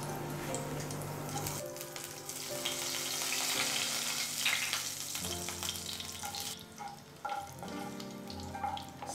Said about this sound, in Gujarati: સૌપ્રથમ આપણે રાઈ જીરું નાખીએ.